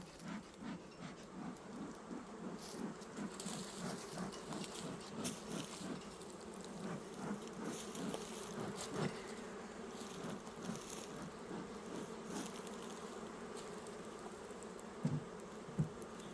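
Honey bees buzz at a hive during an inspection, with a faint, steady drone and a soft crackling texture throughout.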